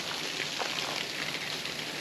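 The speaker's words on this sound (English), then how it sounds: "A little bit of a slow trickle, but it's because they hadn't had rain in a few days." Slow trickle of Indian Falls waterfall in Desoto State Park after a few dry days, a steady soft broadband hiss of falling water, continuous and moderately quiet with no voices.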